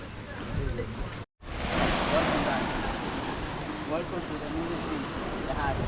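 Surf washing ashore at Colomitos beach near Boca de Tomatlán, Puerto Vallarta, a broad steady rush with wind buffeting the microphone, briefly cut out, while a person talks over it.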